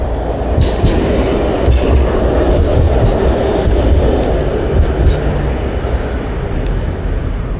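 A tram rumbles past close by, a loud steady roar of wheels on rails with faint clicks and rattles throughout.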